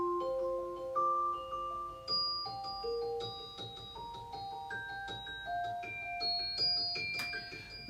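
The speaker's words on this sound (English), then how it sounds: "the Celesta sample, the Arpeggiator and the Replica, sound like this" Celesta sample run through an arpeggiator and a Native Instruments Replica delay: a steady, bright stream of plucked bell-like notes stepping through patterns, with echoes trailing behind each note, moderately loud and alone without talk.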